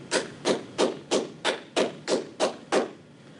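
Cupping tapotement in a Swedish massage, with cupped hands striking the body: eight crisp, hollow percussive claps in a steady rhythm, close and even, with no voices.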